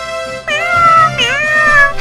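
Two loud, close cat meows in a row, the second higher and longer, heard during Paw Patrol fire-truck ride-on toy pretend play.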